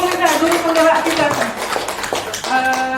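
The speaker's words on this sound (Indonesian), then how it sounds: "tepuk tangan dulu Bu untuk guru penggerak kita" Audience clapping for a teacher at a school gathering, a short burst of applause mixed with a voice speaking over it.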